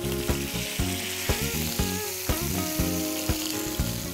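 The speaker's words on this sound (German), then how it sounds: "So bei mittlerer Hitze schon scharf anbraten" A leg of lamb sears in hot rapeseed oil with garlic and dried thyme over medium heat, giving a loud, continuous sizzle and crackle with faint periodic ticks throughout.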